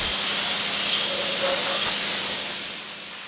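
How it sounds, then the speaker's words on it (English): Spray gun washing a Titan Mk9 race car frame with thinner, a continuous close hiss of atomized spray that holds steady, then slowly fades toward the end, with no talking. "do a final wash with the spray gun and thinner."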